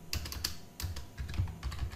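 Someone types HTML code on a computer keyboard, making a steady patter of soft, close keystroke clicks over two seconds with brief pauses and no voice.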